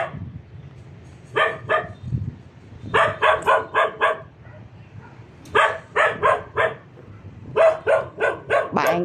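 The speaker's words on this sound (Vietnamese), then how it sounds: "Chó sủa ban đêm thì nghe đã rất là ghê rồi" A dog stands on a grave in Bình Hưng Hòa cemetery at night, barking loudly and close in quick bursts of two to five barks, with short pauses between the volleys.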